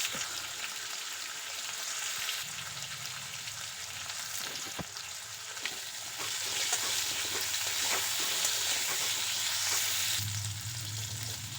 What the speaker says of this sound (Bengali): আবারও কিছুটা সর্ষের তেল দিয়ে দেব কেটে রাখা আলুগুলো। আলুগুলোকেও ভেজে নেব।